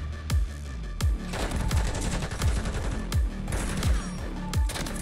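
Rapid bursts of automatic gunfire and individual gunshots crack repeatedly through a Modern Warfare 3 firefight, loud and close, with sharp reports roughly every half second over a steady din of combat.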